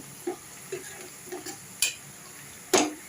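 Vegetable pieces for egg fried rice fry softly in a pan, with a faint steady sizzle, light intermittent scraping as they are stirred, and a couple of sharper clinks of utensil on metal.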